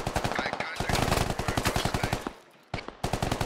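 Rapid bursts of automatic gunfire in the video game SquadOps, a dense rattling string of shots broken by a brief pause, then more fire close and loud.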